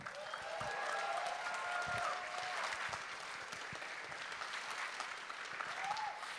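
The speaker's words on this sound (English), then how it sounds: "Round of applause for them." A convention crowd applauds at a closing ceremony, a moderate, sustained wash of clapping with scattered louder claps and faint voices mixed in, tapering slightly toward the end.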